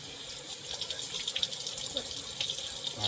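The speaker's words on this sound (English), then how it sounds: "Wash your hands off." Hands are rinsed and rubbed under a running kitchen tap, the steady close splash of water continuing throughout with faint voices in the background.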